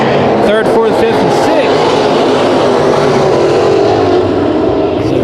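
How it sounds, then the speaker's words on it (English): Race car engine at a third-mile bullring oval during heat races, loud and sustained with a roaring rev-limiter buzz and rapid stutters early on, crowd and track noise blending in. "We just heard a car sound like it well above the rev limiter."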